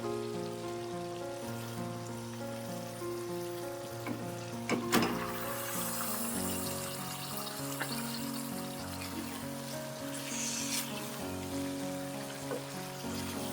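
Chicken pieces drop into hot frying masala for a home-style desi chicken curry, setting off a loud, steady sizzle and crackle that holds throughout with a brief clatter near the middle and no talking.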